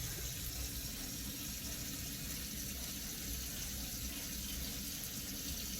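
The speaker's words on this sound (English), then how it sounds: "I'm gonna rinse all this shampoo out." Water runs steadily from a faucet to rinse shampoo out of short hair, a constant soft splashing hiss that stays faint and even throughout.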